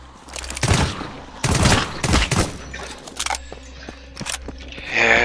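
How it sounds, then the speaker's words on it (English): Gunfire from a weapon in the horror shooter Deathly Stillness comes in short bursts, two heavy volleys early and then lighter, sparser shots and clicks with a low background hum. "the other gun sounds a bit too harsh"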